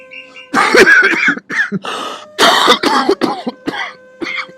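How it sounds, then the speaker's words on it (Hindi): Close, loud bursts of coughing and throat clearing in several uneven fits, separated by short pauses. "मैंने आपकी खांसी की आवाज सुन गई"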